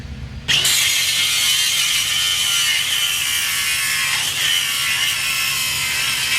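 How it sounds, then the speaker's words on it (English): Flap disc grinder abrading a steel truck frame, starting with a short quiet lead-in and then a loud, steady, continuous high-pitched grinding whine that holds for several seconds. "we're gonna be cleaning the frame by using a flap disc"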